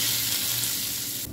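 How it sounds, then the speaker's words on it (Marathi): Hot tempering of asafoetida, curry leaves and dried red chilli pieces hits chutney with a loud, continuous hissing sizzle that lasts about a second before cutting off. "ही फोडणी आपण चटणीवर टाकूया।"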